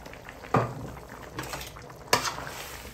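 Potatoes drop into a hot pan with a couple of sharp clatters, then fry and get stirred with a soft sizzle against quiet background noise.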